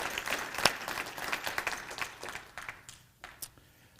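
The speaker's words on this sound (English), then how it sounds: "It's worth clapping for." An audience at a college's State of the College address claps steadily, the applause loud at first and thinning toward the end as a few last claps fade out.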